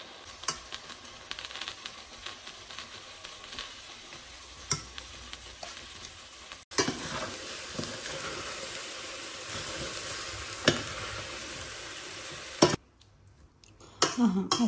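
Eggs fry in a pan with a steady, continuous sizzle and crackle, briefly interrupted by stirring and scraping, then cut off near the end as the sizzling stops.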